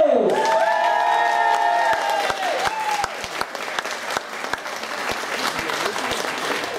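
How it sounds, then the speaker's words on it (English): A large crowd at a World Superbike meet-and-greet session at Silverstone gives a loud, sustained round of applause with scattered cheers for British Supersport rider Sam Lowe, holding steady throughout and thinning slightly toward the end. "Keep the round of applause going."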